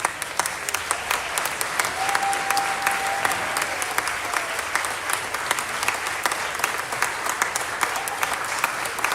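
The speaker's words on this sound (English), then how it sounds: "Let's give him a round of applause." Applause fills the Georgia state senate chamber, with dense, sustained clapping from many hands and no break across the clip. A faint tone sounds briefly beneath it.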